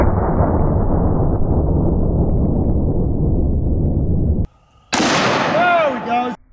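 A sawed-off 12 gauge shotgun fires a single loud, close blast, followed by a short ringing decay. The shot comes after a stretch of steady, loud background noise and a brief near-silence.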